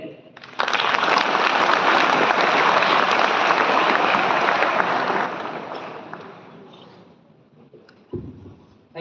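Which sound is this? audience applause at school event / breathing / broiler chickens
audience applause at school event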